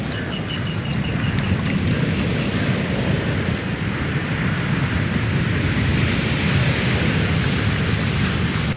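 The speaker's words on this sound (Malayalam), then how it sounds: "50 മീറ്ററോളം ഉള്ളിലേക്ക് തിരമാല അടിച്ചു കയറി" Sea waves surge over a broken coastal seawall near a strip of casuarina trees, pushing water about fifty metres inland. The roar is loud, continuous and close, with wind-like rushing and no voices.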